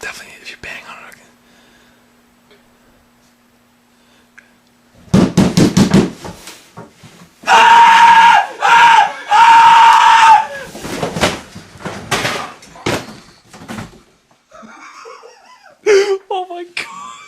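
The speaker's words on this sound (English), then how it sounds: "That right there was one of the most terror-stricken screams I have ever heard." A man pranked into terror lets out several long, loud screams after a quiet whispered stretch and a burst of banging, followed by broken shouts and gasps, with other people whispering and laughing around him.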